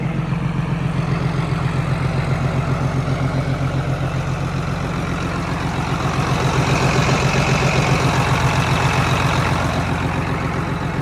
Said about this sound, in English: Motor seems to run pretty decent.